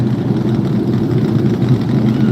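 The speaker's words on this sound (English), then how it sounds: "The roar of the engines for the Pro Lake models going 50 laps here tonight." Pro Late Model race car engines roar together before a 50-lap night race, a loud steady low rumble filling the air with no break.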